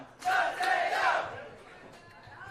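A wrestling arena crowd erupts in loud cheering and yelling for Mateo Valentine at an 880 Wrestling event, swelling sharply then easing into a lingering murmur.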